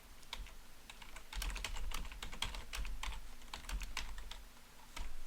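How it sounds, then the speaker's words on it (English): Fingers typing on a computer keyboard, a quick run of close, crisp key clicks in an uneven rhythm over a low background hum. "let's just type in here and see"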